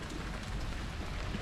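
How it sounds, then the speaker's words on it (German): Steady rain hisses evenly and without pause around someone setting off on an e-bike tour along the Rhine, a dense wash of noise with no voices. "Dann vamonos. Hallo Regen."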